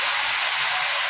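Water poured into a hot cooking pan produces a loud, steady, broadband steam hiss and sizzle that lasts about a second, close up, with no talking.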